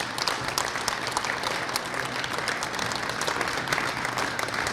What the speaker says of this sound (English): let's give all of our ABE graduates one more round of applause